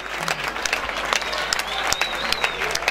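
Lively audience applause at an awards ceremony, dense clapping with scattered whoops and crowd noise, some voices calling over it.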